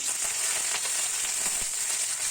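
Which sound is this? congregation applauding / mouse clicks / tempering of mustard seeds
tempering of mustard seeds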